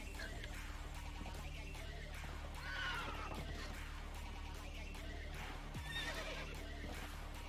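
Horse in the game Conan Exiles whinnies twice over a steady clip-clop of hooves, with continuous game ambience and music underneath.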